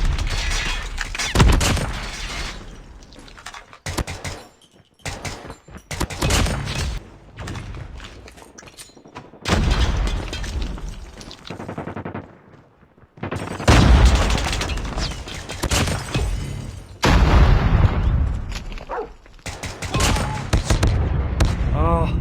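SKS rifle gunfire in the mobile shooter Call of Duty Mobile, with sharp, loud bursts of shots and booming impacts arriving in clusters separated by brief quiet gaps, mixed with other battle noise.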